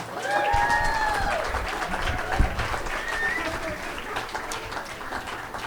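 An audience at a live storytelling event claps steadily, moderate in level and gradually easing, with a couple of brief whistles or cheers over it.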